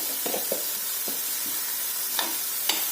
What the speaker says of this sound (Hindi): इसको भी सौटे कीजिए, मिक्स कीजिए सारी सब्जियों के साथ